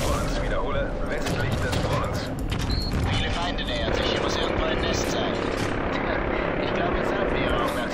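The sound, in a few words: helicopter in video game Call of Duty: Modern Warfare 3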